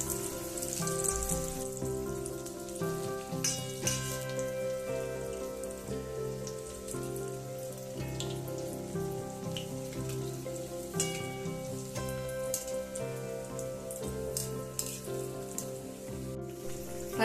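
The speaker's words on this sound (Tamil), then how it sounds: "இப்போ நம்ம பிரெட்டை பொரிச்சு எடுத்துக்கலாம்." Slices of bread fry in hot oil with a steady, rain-like crackle and pop that runs throughout, alongside faint background music.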